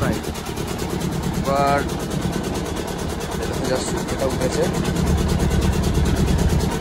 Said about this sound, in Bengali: এখন জেনারেটার আওয়াজ হচ্ছে